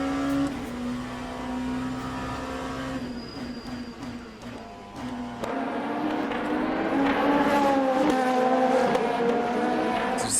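A race car at the Sebring hairpin in Le Mans Ultimate, the engine droning steadily while braking, dipping briefly, then revving up hard under acceleration out of the turn, loud and close.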